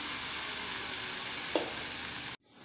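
Semolina batter sizzles in a greased hot pan with a steady, even frying hiss, then cuts off abruptly near the end.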